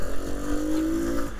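A 1972 Honda CT90 motorcycle engine hums steadily while riding, a close, even low drone with no speech over it.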